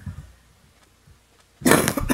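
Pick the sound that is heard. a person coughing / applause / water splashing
a person coughing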